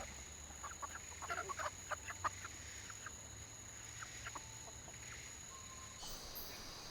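Chickens clucking in a village in Guyana's rainforest, faint scattered clucks and calls over a quiet steady background hum, distant and low in level.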